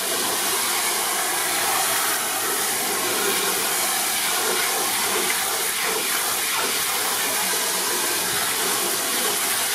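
Shower head spraying hot water onto a Nomu S10 rugged outdoor smartphone during a water test, a steady loud hiss of spray running without a break and with no talking.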